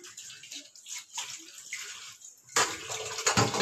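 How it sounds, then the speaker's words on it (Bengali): Water poured into a pan of soybean and egg curry during cooking, a soft splashing trickle that swells into a louder, steady rushing pour, close by. "এইবারে আমি এর ভেতরে জল দিয়ে দেবো।"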